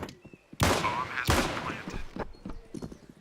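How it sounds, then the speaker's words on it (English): Dual pistols fire in Counter-Strike at a slow pace, a few sharp shots spaced apart amid game noise, with a commentator talking over the action. "Very slow firing dualies."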